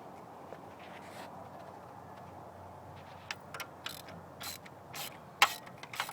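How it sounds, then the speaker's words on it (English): A hand ratchet works on the central water pump bolt of a 1996 Nissan Maxima, giving quiet clicking strokes in short uneven bursts over a low background hum, close but faint. "The last bolt you want to take out is this main one that's in the middle."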